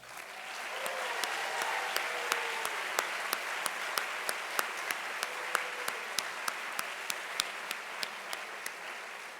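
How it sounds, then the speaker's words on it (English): An audience at a design school recognition ceremony gives faculty a round of applause, a broad, even patter of many hands, with a few sharp, regular clicks standing out on top. "I would like to begin today by giving them a round of applause."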